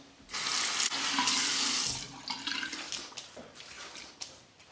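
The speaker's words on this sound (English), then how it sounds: "Rinse the face, rinse the razor." A razor is rinsed under a running tap, a close, steady rush of water for about two seconds, then broken splashing as it is moved through the stream.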